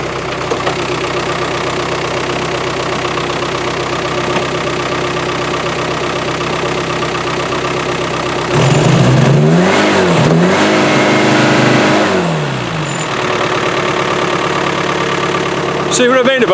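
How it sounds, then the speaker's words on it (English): Isuzu 4BD1T diesel engine with a single silencer, running in cold weather around -4°C: a steady rough idle, then a couple of rising revs and falling back midway, with a voice speaking briefly near the start. "Should I rev it up for you?"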